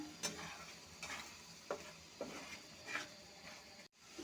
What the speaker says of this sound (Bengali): ভালো করে আর একটু কষিয়ে নিলাম